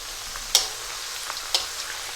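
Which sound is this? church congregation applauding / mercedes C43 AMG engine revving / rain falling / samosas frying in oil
samosas frying in oil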